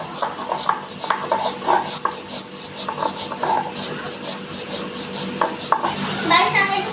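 Green chili, turmeric and salt ground into a paste on a stone, a rhythmic rasping scrape repeating back and forth at close range, steady and unaccompanied by talk.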